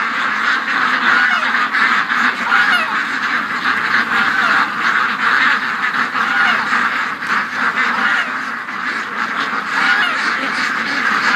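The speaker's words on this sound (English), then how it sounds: "The ducks are completely screwed up because of Doug." A crowded flock of farm-raised ducks quacks and honks nonstop, close and loud, in a dense, overlapping chatter that never lets up.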